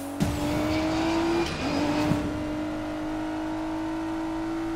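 A car in Need for Speed Payback revs and accelerates hard, a loud steady engine drone that climbs in pitch, dips briefly as it shifts, then holds a sustained high whine to the end.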